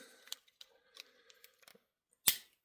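A single sharp snip as a rubber fuel line is cut on an old Poulan 5200 chainsaw, preceded by soft handling clicks and rustles.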